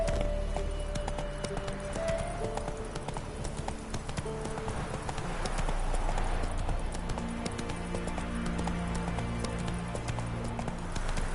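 Horse hooves clip-clop at a steady, unhurried walk in The Witcher 3, close and clear over soft sustained game music.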